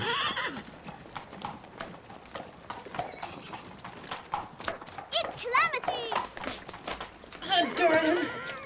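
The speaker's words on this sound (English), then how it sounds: "He's the best horse in the show." Horse hooves clip-clop in a steady rhythm, with a horse whinnying loudly toward the end and people talking underneath.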